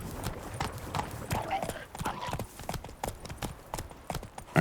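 Horse hooves clip-clop at a steady canter in The Witcher 3, a quick, even rhythm of close hoofbeats throughout, with faint voices underneath.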